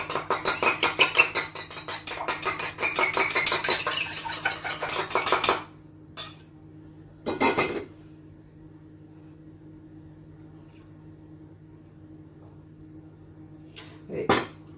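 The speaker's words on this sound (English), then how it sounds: "Let's mix this in first so I know how much milk to add" A utensil beats egg into fruit scone mixture in a bowl, a fast rhythmic scraping and clatter for about five seconds, followed by a few isolated knocks and scrapes against a quiet background hum.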